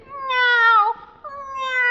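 A voice imitates a cat, giving two drawn-out, whiny meows close up with a short pause between them.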